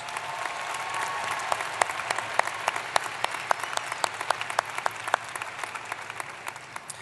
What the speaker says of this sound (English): How about one more round of applause for these students?